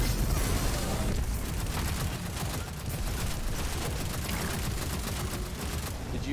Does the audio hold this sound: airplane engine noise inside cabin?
no